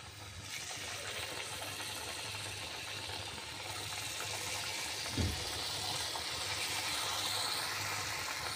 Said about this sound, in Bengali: এই যে পিঠা ভাজা হচ্ছে